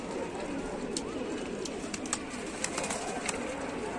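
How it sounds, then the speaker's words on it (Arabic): Pigeons coo softly inside a loft over a dense, steady bed of rustling and low noise, with faint calls and a few small clicks scattered through. "بصوا الحمام مش قادر لسه يا رجاله"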